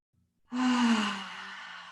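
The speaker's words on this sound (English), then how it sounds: "One more big breath in" A single deep breath drawn in through the nose during a yoga cool-down, starting after a short silence and swelling into a long, close, airy inhale that slowly tapers off.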